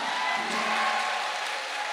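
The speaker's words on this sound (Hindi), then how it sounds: "जोरदार तालियां होनी चाहिए" Loud, dense applause and cheering from a large crowd at a big seminar gathering, a steady wash of clapping with scattered whoops held at a constant level throughout.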